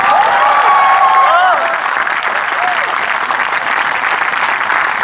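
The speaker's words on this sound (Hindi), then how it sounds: "तालियां बजाइए" Audience applause at a Hindi comic poetry gathering (hasya kavi sammelan), loud sustained clapping from a large crowd, with a few whistles and cheers early on.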